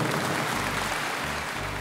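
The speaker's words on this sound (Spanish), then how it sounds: "Un aplauso para él." Clapping at a cooperative community gathering forms a brief, dense wash of applause that holds steady throughout without any voices.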